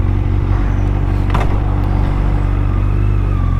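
A van drives past on a road, its engine rumbling loud and steady at close range with a brief revving swell, traffic noise continuing throughout.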